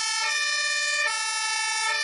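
An emergency vehicle siren in traffic, loud and continuous with a bright, held electronic tone that shifts slightly in pitch, no voices.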